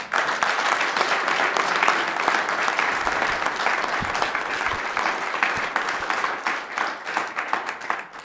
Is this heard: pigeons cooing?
no